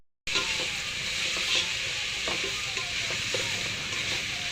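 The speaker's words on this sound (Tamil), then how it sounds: "இஞ்சி பூண்டு போட்டு கிண்ட வேண்டியதுதான்" Ginger and garlic fry in a hot pan with a constant bright sizzle. Light scraping clicks from stirring cut through the hiss at irregular intervals.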